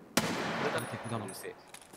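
Gunshots in a realistic first-person shooter game, one sharp report followed by muffled distant firing, with players talking over it.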